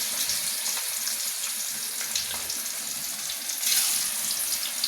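Fish being half-fried in a pan gives a loud, continuous close-up sizzle, a dense hissing spatter that swells briefly near the end, with no voices.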